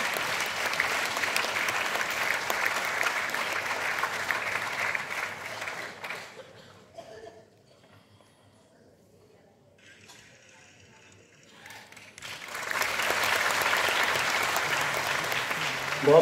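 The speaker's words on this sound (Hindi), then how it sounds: "जोरदार तालियां, जोरदार स्वागत।" Hall applause at a ceremony honouring the chief editor of the complete Malaviya works: strong, dense clapping that fades to near silence midway, with faint scattered handling noises, then swells back to full strength.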